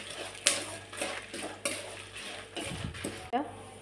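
Dried red chillies and spices fry in a pan with a soft sizzle under repeated clinks and scrapes of a spoon against the metal, close by and steady.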